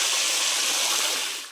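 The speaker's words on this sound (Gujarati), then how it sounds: "પાણી છલકાવા માંડ્યું" Water gushing and spilling over the rim of a tank filled by a sprinkler, a steady loud hiss of rushing water close by that fades out at the end.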